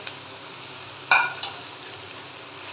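Rice stir-fried with vegetables over a high flame, a steady hissing sizzle broken by one sharp metallic clink of a utensil against the pan.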